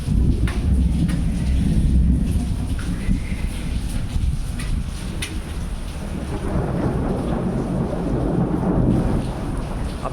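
Steady heavy rain in Dehradun pouring over green wheat fields, with deep rolling thunder rumbling underneath throughout; a loud, dense outdoor wash of sound with no talking.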